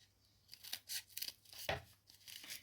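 Large scissors cutting through thick, dense cardboard from a box, a close series of crisp crunching snips at an irregular pace, quiet between cuts.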